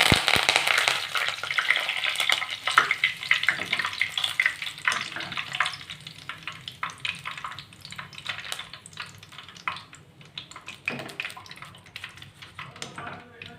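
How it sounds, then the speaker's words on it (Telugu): Curry leaves fry in hot oil in a pan with a bright, crackling sizzle that gradually settles into a softer, steady spitting under intermittent stirring clatter. "ఇదే జాలర్లో కొద్దిగా కరివేపాకు వేసి వేయించుకుందాం"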